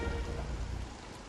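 Heavy rain falls steadily in a dense, close wash of drops, alone and even throughout.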